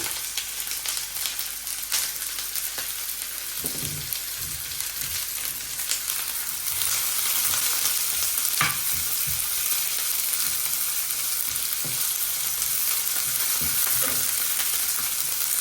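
Chopped onion and garlic frying in a pan: a constant close sizzle with scattered stirring clinks and scrapes throughout, growing slightly louder partway through, with no talk.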